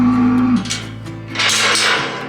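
Dairy cows moo loudly in close farm pens, one long low call followed by a second rising, strained moo, with faint background clatter.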